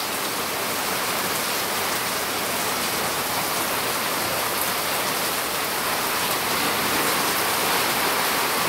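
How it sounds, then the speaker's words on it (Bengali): Heavy rain pours down steadily during a strong windstorm, a dense and loud continuous hiss of downpour with no voices. "আসলে অনেক বৃষ্টি।"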